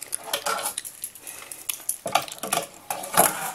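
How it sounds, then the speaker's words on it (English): Fingerboard doing a 360 crooked grind down a rail on a homemade ramp: close, scratchy metallic scraping of the tiny deck and trucks along the rail, with bursts of sharper clatter from landings and impacts. No one speaks. "you should do a 360 crooked grind down this rail"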